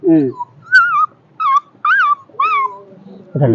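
Someone mimics a dog with a string of short whimpering yips and whines, close to the mic, ending in a brief burst of voice.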